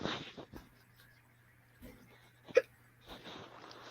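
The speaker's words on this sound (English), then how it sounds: "That was a good hiccup." A single sharp hiccup pops out clearly near the middle of a quiet indoor room, preceded by faint mouth noises and soft breathing, with a low steady hum underneath.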